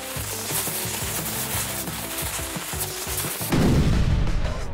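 Dynamite blast against a wall in a Roblox obby game, a loud rumbling, crackling burst of explosions with a sharper, heavier boom near the end, no talking.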